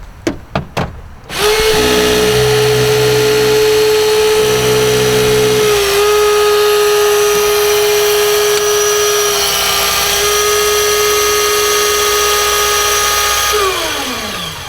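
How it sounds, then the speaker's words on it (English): Hydraulic extrication cutters bite into material: a couple of sharp knocks, then a loud, steady mechanical whine holds for about twelve seconds, dipping slightly midway before winding down at the end. "When you have cutters that are going to advance their way into the material"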